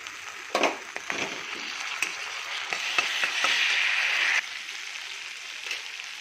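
Ginger garlic paste sizzles and fries in a pan for restaurant-style mutton kadhai, a steady hiss broken by a few sharp stirring scrapes and clicks, close and alone.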